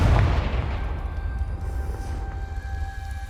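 A Confringo fire spell explosion in Hogwarts Legacy, a deep booming blast at the start that rolls into a sustained low rumble fading over a few seconds, with steady tones lingering above.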